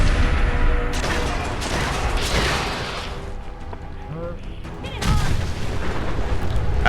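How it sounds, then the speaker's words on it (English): A sentry bot exploding in the Fallout 4 video game, a loud booming blast with heavy rumble, followed by a second burst later, with a voice talking over it. "And it will also explode after it's dead, and that will actually do a decent amount of damage."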